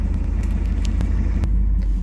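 A 1981 Turbo Trans Am V8 idles close by, a steady low rumble with a faint regular pulse and a couple of light ticks, no one speaking.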